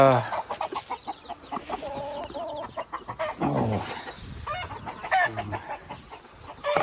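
Native chickens cluck and squawk in a busy, overlapping stream near and far, with a rooster-like crow rising among them and occasional soft human sounds in the background.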